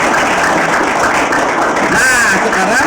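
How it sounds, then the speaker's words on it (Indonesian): A studio audience claps through a loud, dense burst that fills the whole moment on an Indonesian television show, with voices mixed into the clapping. "Tepuk tangan dulu"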